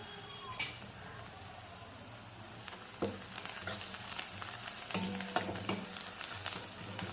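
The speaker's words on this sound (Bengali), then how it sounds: "প্রথমেই দিচ্ছি পেঁয়াজ কুচি। পেঁয়াজটা একটু লাল লাল ভাজা হবে, ততক্ষণ এটা নাড়াতে হবে।" Chopped onion sizzles steadily in a pan, with intermittent stirring scrapes and light knocks of a spoon against the cookware growing busier toward the end.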